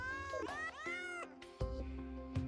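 Cat meows ring out from the Meowmere sword in the video game Terraria, several rising and falling mews in quick succession, loud and close over a low background game hum.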